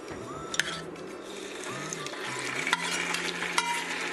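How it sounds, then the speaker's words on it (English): Meat searing in a hot pan for a Karachi biryani gives a steady, close sizzle with small crackles and a few sharp utensil clicks and scrapes throughout. "Nice sizzle."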